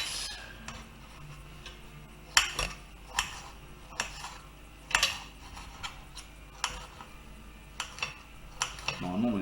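Tomatoes being cut into pieces with a knife, producing sharp separate taps and clicks on a board at uneven intervals, close and distinct over a quiet background.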